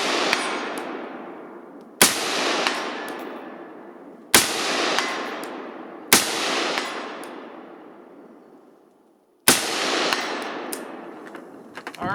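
Five loud rifle shots with 69 grain reloads fired at a target about 250 out, each a sharp crack trailing into a long outdoor echo, spaced roughly two seconds apart.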